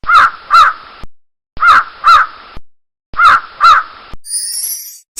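A crow caws in three pairs of harsh, rasping calls separated by short silences, loud and close, followed by a brief high chime.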